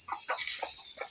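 Several short clucks from a chicken, bright and close, coming in quick irregular bursts with brief pauses between.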